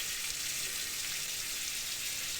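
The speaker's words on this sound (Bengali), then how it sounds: "ভালোভাবে ভেজে নিচ্ছি।" Two large heads' worth of minced garlic frying in oil in a pan for pink oyster mushroom chowmein, a steady close hissing sizzle that holds evenly throughout with no voices.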